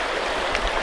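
River water flowing steadily at a gold-panning spot, a brief, close wash of rushing, gurgling stream noise with no voices.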